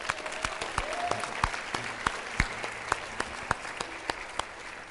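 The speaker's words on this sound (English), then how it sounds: "Can we just give the Lord just a big hand clap of praise?" A church congregation claps for a few seconds in praise of the Lord, steady scattered applause with sharp individual hand claps standing out over a low murmur, moderately loud and close.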